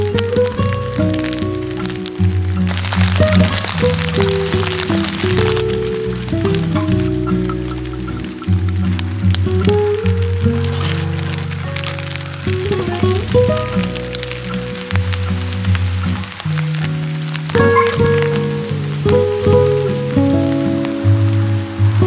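Heavy rain pours steadily onto a camping tent during a downpour, a constant patter and drumming heard under prominent background music throughout.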